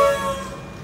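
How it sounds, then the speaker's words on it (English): A Comeng electric train pulls away from the platform on a Craigieburn line service with a tonal motor whine and a low rumble, moderately loud and steady, then gradually fading. "Comeng train on the down Craigieburn service departing platform number 2."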